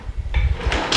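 A drawer at home slides open or shut with a close wooden rumble, followed by a couple of brighter scraping knocks as it moves.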